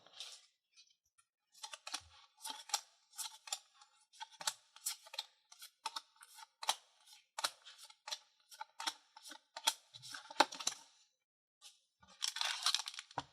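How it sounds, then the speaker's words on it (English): Scissors slice open Digimon card booster packs in a quick, uneven series of crisp, close snips, ending with a brief rustle of wrapper. "I make everyone nervous with the way that I cut open the booster cards"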